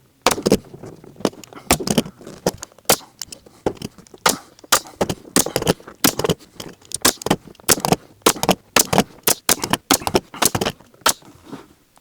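A staple gun fires temporary staples through upholstery fabric on a Land Rover Defender centre console, with many sharp, loud snaps in an uneven rhythm, close by, repeating steadily for about twelve seconds.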